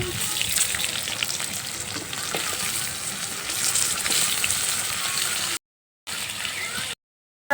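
Potato and pumpkin with panch phoron sizzle and crackle steadily in a hot pan, a continuous frying hiss with brief cuts of silence near the end.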